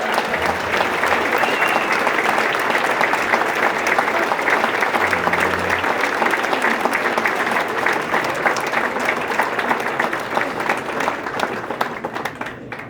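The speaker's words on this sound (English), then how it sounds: "Give her a nice round of applause, guys." An audience at a brunch honoring the NYC St. Patrick's Day Parade Grand Marshal breaks into sustained, loud applause, dense clapping continuing steadily before tapering slightly at the end.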